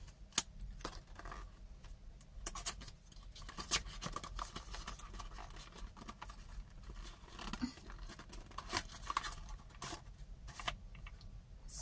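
Scissors snipping through material while replacing a broken black charger cable, a quiet series of irregular crisp cuts and small handling clicks with no talking.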